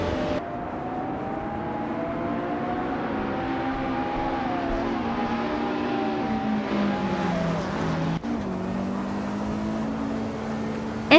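Retro GT 500 race cars racing on the New Jersey track in a video game, a steady, loud engine drone with shifting revs as the cars run through corners and short straights.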